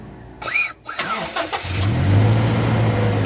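A car engine cranks over briefly with a whirring starter, catches, and settles into a steady close idle; a voice speaks faintly at the start.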